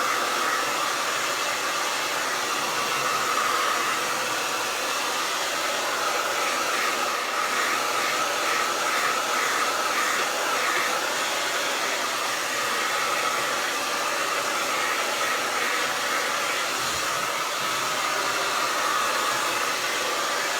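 A hair dryer runs steadily close by, blowing over a chalkboard to dry a coat of Mod Podge, its airy whine constant throughout with no talking.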